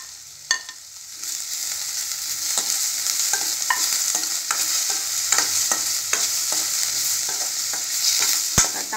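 Tomatoes and curry leaves sautéing in a pan for a puri and egg podimash, a loud steady sizzle punctuated by repeated spatula scrapes and taps at an irregular rhythm, close up with no speech.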